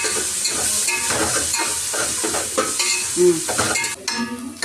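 Chopped mint and coriander are stir-fried in a pan, giving a continuous close sizzle broken by the rhythmic scrape of a spoon stirring and scraping against the pan.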